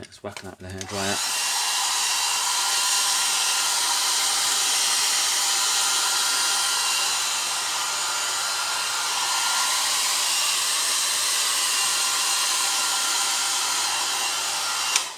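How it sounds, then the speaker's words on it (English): A hair dryer switches on and blows with a loud, steady whooshing hiss close by, running continuously with no other sounds. "Right, let's whack that with a hairdryer."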